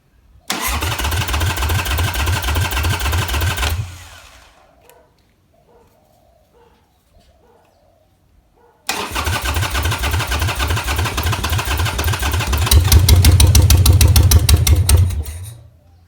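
A Harley-Davidson Sportster, a custom rigid bobber, cranks and fires with a loud, close starter whir and lumpy rhythmic idle, cuts out into near silence, then cranks and fires again, revving up before shutting off.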